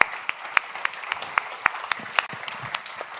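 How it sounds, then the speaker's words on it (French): Audience applause at a talk event, a steady patter of many hands clapping with a few sharper individual claps standing out, moderately loud and continuous throughout. "Je pense qu'on peut vous applaudir."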